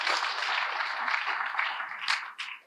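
A church congregation applauds together during a sermon, a dense, steady wash of clapping lasting a few seconds before tapering off.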